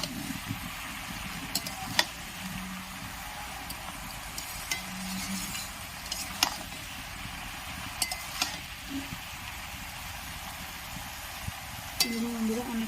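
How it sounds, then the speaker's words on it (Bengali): Quiet, intermittent scraping of a spoon stirring a fish-head mixed vegetable curry (labra) in a pan, with a faint sizzle underneath and occasional soft clinks. "ঢাকাটা তুলে আরেকবার নেড়ে দেবো।"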